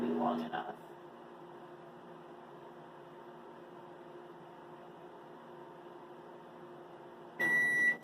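A microwave oven running at 30% power hums steadily with a fan-like drone for several seconds, opening with a brief louder burst and closing with a sharp electronic beep at the end of the cycle.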